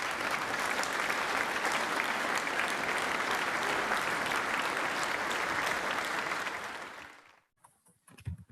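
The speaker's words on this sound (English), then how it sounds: "Please join me in giving each of these individuals and organizations a round of applause" An audience applauds at an athletic awards ceremony, with loud, dense clapping held for about seven seconds, then quickly tapering off into near silence with a few stray sounds.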